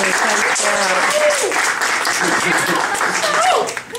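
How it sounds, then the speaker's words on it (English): Audience applause for Cantrell Mitchel at a hairstyling industry event, a loud, dense wash of clapping throughout with voices and cheers mixed in, tapering slightly at the end. "Let's give him a big round of applause"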